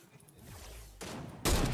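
A headshot gunshot goes off in the video game Fortnite. Over a brief murmur, two sharp, loud broadband cracks land close together and build to a final burst.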